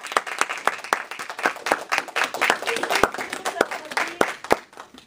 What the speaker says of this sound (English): Can we give you an applause?